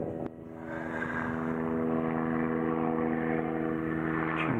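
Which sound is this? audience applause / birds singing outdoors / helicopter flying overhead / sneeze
helicopter flying overhead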